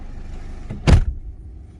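A car door on a 1999 Honda City Type Z 1.5 EXi manual sedan, parked, gives a single short, loud thump near the microphone, with quiet cabin ambience on either side.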